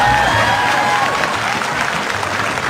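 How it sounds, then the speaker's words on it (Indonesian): An evening school quiz competition audience claps for three contestants, a dense burst of close applause with no voices. "Tepuk tangan untuk 3 peserta kita pada malam hari ini."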